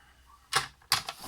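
Two sharp snips of paper being cut for a teddy-bear scrapbook photo album, close and fairly loud, the second followed by a small extra snip, with quiet room tone between.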